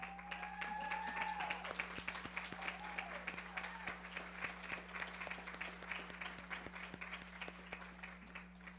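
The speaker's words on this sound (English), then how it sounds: "so that you can give them all a round of applause" Scattered applause from the audience at a nursing pinning ceremony greets standing faculty members, fairly quiet and uneven, with a steady low hum and a few faint tones over the clapping.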